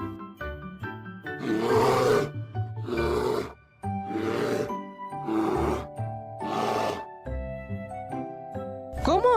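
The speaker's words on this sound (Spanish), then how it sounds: "El oso hace..." A bear roars and growls in a series of five or six strong, rough bursts separated by short pauses, laid over a soft jingling melody in an animal-sounds sequence.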